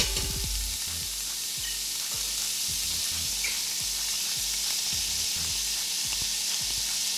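Ground beef fries over medium heat in olive oil in a non-stick pan, a loud continuous sizzle with soft low scraping knocks from stirring at an irregular pace, close and unbroken.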